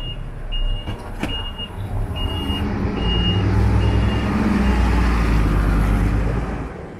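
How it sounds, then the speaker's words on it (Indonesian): A city bus in Taiwan pulls in at a roadside stop, its engine rumbling louder and closer as it draws up, with a few short electronic beeps and clicks near the start and a low idling drone after. "Pas banget ada bis berhenti."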